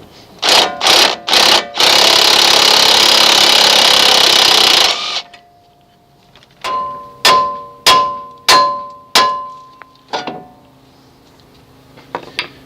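Sharp metallic hammer taps ring out as an original outer tie rod is driven from the steering knuckle of a 1989 Chevy K1500 Silverado. Three quick strikes and a long grinding burst are followed by six evenly spaced clangs, each decaying.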